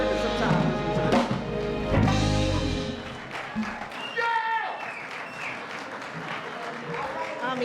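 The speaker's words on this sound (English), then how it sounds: "another round of applause here for Zachary Z-String Rochester." Audience applause at a tribute event, a burst of clapping mixed with cheering voices early on that fades as a single speaker's voice carries over the tail.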